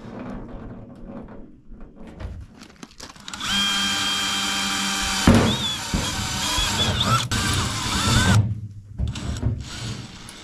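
A power drill with a dull step bit boring out a hole in a trailer's under-bed toolbox on a Gatormade gooseneck trailer, a loud sustained whine that rises and strains, with clanks and handling noise before and after.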